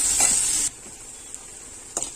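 Onions and green chillies sizzle loudly in a hot pan for a moment, then drop to a quiet hiss with a couple of light stirring clinks.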